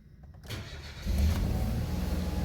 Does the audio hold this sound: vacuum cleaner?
no